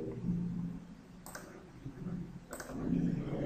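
Two crisp computer mouse clicks, spaced about a second apart, snap over a quiet low room hum.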